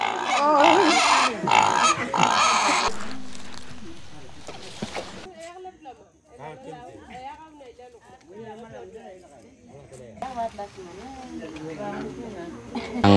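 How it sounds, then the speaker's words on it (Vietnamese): A pig held down for slaughter by two men at a Dani tribal cooking gathering in West Papua squeals loudly and harshly in the opening seconds, then people talk over quieter background noise. "Đấy, hai anh kia đang giữ chặt con lợn này."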